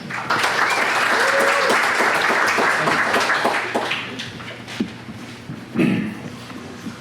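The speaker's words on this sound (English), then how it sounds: "So let's give a big round of applause for Tim Reynolds." An audience applauds a speaker at a tech talk on chat notifications for Android and iOS, with dense clapping for about four seconds that thins into scattered claps, a faint whoop and a brief voice.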